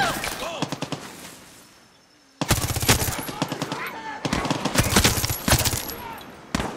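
Automatic weapons fire in Far Cry 6 gameplay: loud, rapid bursts of machine-gun shots crackle in clusters, broken by a short quieter lull, with a voice talking in places.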